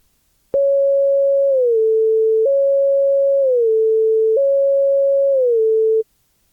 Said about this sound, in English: this sine wave should jump to a high pitch immediately